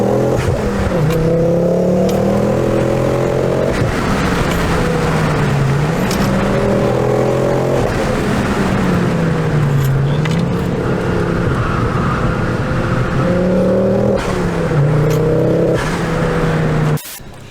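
Ford Focus RS accelerating hard from a standing start, heard from outside, engine note rising through several gears with brief dips at each shift, loud and steady throughout, cutting off abruptly at the end.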